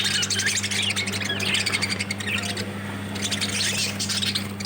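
Pet lovebirds (budgies) chirping steadily, a busy run of bright, rapid tweets from close by over a low, constant hum, with no talk.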